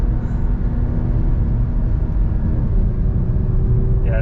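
Honda Civic Type-R engine while driving, a steady loud interior drone with road rumble, holding in gear without major revving changes, no talk.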